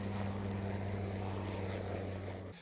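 Surion amphibious assault helicopter flying, a steady droning engine and rotor hum heard close and continuous, cutting off abruptly at the end.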